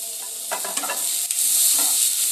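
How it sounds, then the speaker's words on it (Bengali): Chopped onion, tomato, ginger and green chili fry in a hot pan with a loud, steady sizzle, interrupted by a few soft scraping stirs, and no voices. "দিয়ে আবারও একটু ভালো করে সব মশলাগুলোকে একটু ভেজে নেব"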